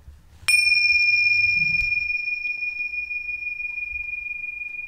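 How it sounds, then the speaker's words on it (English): A meditation bell is struck once, sounding a clear, bright ring that sustains and slowly fades over several seconds in a quiet room, with no talking. "Using the bells as a way of dropping into meditation."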